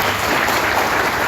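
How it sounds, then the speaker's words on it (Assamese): A crowd at a farmers' project inauguration gives loud, steady, close applause through the whole moment, with no talking above it. "জোৰদাৰ এবাৰ হাত চাপৰি মাৰিব লাগে হাত তালি মাৰিব লাগে"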